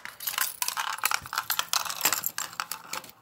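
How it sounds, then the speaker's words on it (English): Car keys are set down with light metallic clinks and rattles, a quick cluster of small jangling taps close by, with no talk. "Put the keys here."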